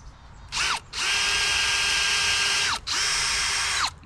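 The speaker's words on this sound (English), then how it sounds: "So we're gonna pre-drill." A power drill pre-drills into a hickory wood handle in three loud, sustained bursts, each winding down in pitch before the next starts.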